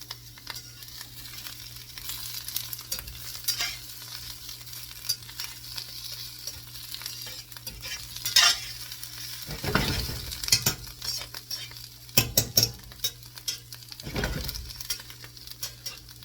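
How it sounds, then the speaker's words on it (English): Onions and ham frying in a pan for an omelette, a low steady sizzle with occasional louder scraping stirs near the end, close and moderately loud, no talking. "That's the color I want all my onions right there. And then I'm going to add the ham."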